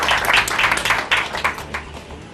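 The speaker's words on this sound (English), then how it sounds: "I want to give a round of applause to the guys that" An audience at a VIA and NVIDIA tech presentation claps together, a short burst of dense applause that rises and then tapers off within a couple of seconds.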